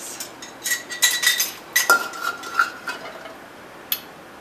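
Kitchen measuring cups clink and rattle against each other while handled during preparation of a tropical fruit cobbler topping, with a cluster of bright, close clinks followed by a few scattered taps.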